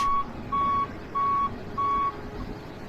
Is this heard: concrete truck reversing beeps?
yes